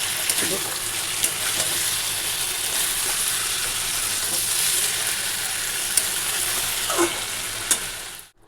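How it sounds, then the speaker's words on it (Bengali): Curry broth boils in a pan with a continuous close sizzling bubble and a few sharp pops and stirring knocks, then fades out at the end. "তো ঝোলটা ফুটে গেছে"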